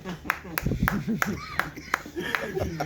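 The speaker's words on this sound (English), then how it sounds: "I see 2 claps from people that have lived in places like that" A couple of audience members clap a handful of sharp, separate claps during a stand-up comedy set at a small Gothenburg venue, heard under someone speaking.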